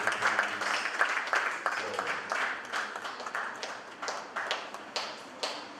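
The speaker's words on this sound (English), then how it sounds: "Please, a round of applause for him." A conference audience gives a round of applause for a speaker, a moderately faint patter of clapping with distinct individual claps standing out, fading gradually toward the end.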